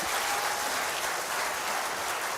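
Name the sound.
audience applause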